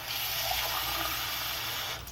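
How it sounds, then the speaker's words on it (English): Water runs from a tap in a steady, close, hissing stream that stops abruptly near the end. "We take water from the tap."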